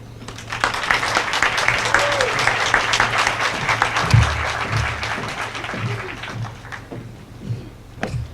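An outdoor audience at an evening lighting ceremony applauds for the event organizers, a dense, steady patter of many hands lasting several seconds, with murmuring voices and scattered low thumps mixed in.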